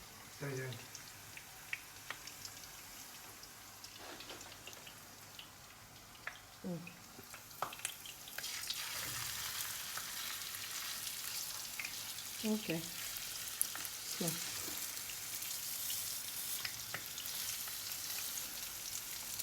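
A pork chop sizzles and crackles steadily in oil in a pan, growing louder after a few seconds, with brief quiet speech near the start.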